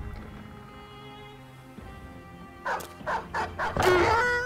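In the Battle Brothers video game, a dog barks about four times in quick succession, fairly close and loud, after a quieter stretch of low background game sound.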